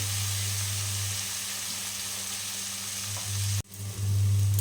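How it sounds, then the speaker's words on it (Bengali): Frying in a pan for rui fish curry sends up a continuous loud sizzle over a steady low hum, cut by a sharp brief break near the end before the sizzle returns. "এটা একটু ভেজে নেব ভালো করে।"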